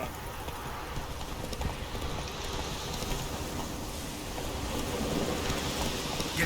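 Horse hooves gallop across the ground in The Witcher 3, a steady rhythmic clip-clop mixed with a rain-like wash of ambient game noise, fairly quiet overall and with no speech.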